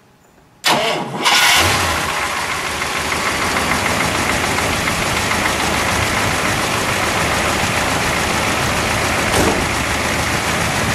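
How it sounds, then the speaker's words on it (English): A 1961 Imperial Crown convertible, a Chrysler product, cranks briefly and fires up loudly close by, then settles into a steady, rumbling idle that holds to the end without talk. "let's fire it up, shall we?"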